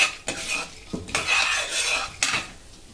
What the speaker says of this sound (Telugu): మంచిగా కలుపుకుంటూ వేయించుకోండి ఒక 1 మినిట్.